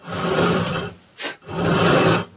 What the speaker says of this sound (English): This one, I want to push it to create a deep enough kerf to start out.